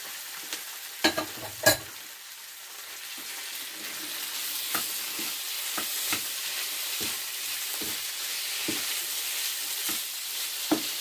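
Small pieces of chicken breast fry with vegetables in a hot pan, giving a steady bright sizzle with occasional crackles and sharp utensil clicks stirring the food, close and continuous with no voices.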